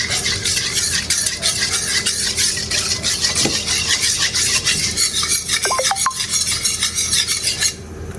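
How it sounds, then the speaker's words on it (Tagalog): Oil sautéing in a pan for a Filipino dish of tiny dulong fish, with a spoon stirring through it; a steady loud sizzling hiss with repeated scraping strokes, fading slightly at the end. "Gigisa natin."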